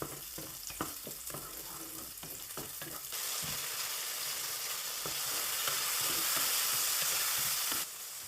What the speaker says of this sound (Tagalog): Habang ginigisa ko yung ano, sibuyas, bawang, kamatis